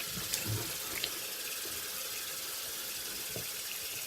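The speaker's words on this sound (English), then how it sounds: "So we'll go ahead and rinse with cold water." Cold tap water runs into a bathroom sink for rinsing after a shave, a soft steady splashing stream, quiet and close, with a few small clicks and knocks.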